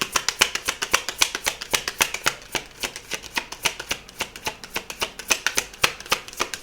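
Tarot cards are shuffled in a rapid, rhythmic run of crisp riffling slaps, close and fairly loud, continuing steadily with no voices.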